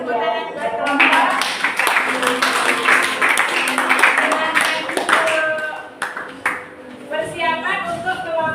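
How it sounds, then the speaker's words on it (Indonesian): Classroom applause for a student group: a burst of clapping from many hands lasting several seconds, loud and close, with voices and a ringing tone mixed in, dropping briefly before a second round of clapping. "tepuk tangan buat kelompok."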